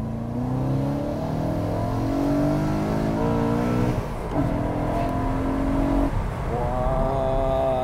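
A BMW M3 engine with a manual gearbox revs high and steady, pitch climbing and holding, dipping briefly mid-way before rising again, loud and close with no voices.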